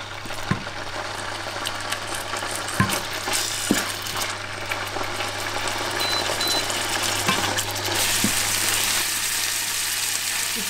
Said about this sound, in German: Ich brate jetzt ein bisschen braun und dann kommen die rote Zwiebel dazu.